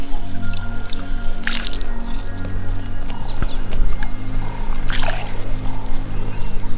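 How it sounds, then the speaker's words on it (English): Dirty water is scooped out of a water hole at a Hadzabe camp, making wet squishing splashes and drips at close range over a steady low hum, with irregular scoops and no talk. "the first thing they will do is to clean the water by fetching the dirty water out of the hole"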